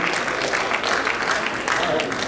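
Church audience at a dance fest applauding, a sustained wash of hand clapping from a crowd at moderate distance, steady for a couple of seconds with talk mixed in.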